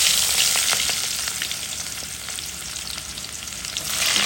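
Hot cooking oil in a pan gives off a loud, continuous crackling sizzle with no voices, holding steady throughout and swelling slightly at the end.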